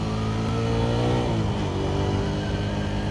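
A Suzuki Satria FU motorcycle with an overbored DOHC engine revs loudly and continuously up close, its pitch dipping slightly and then climbing again in a buzzy, sustained drone.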